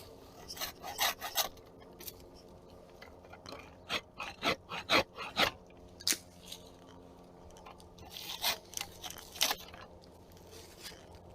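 Rasping saw or lopper cuts bite through dead branches while a tree is pruned, bursts of rough scraping strokes in quick clusters with pauses between, close and fairly quiet, no talking.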